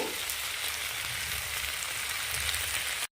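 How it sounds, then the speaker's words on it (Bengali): Cabbage and fried potatoes go into a pan of cooked-down spices and sizzle in a steady, even hiss up close, like light rain, ending abruptly in silence. "মশলাটা ভালো করে কষে যাওয়ার পর ওপরে বাঁধাকপি দিয়ে দিলাম আর দিয়ে দিচ্ছি ভেজে রাখা আলু"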